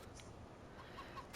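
A few soft chicken clucks from the video game Farming Simulator 19, faint and sparse, over a low steady background hum.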